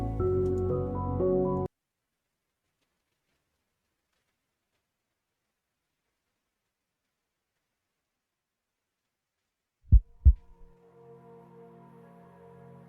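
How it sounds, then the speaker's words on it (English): A heartbeat sound effect plays in a Ren'Py visual novel game as two quick, low, heavy thuds after a long silence, followed by a faint sustained tone. "That was it playing the sound for the heartbeat"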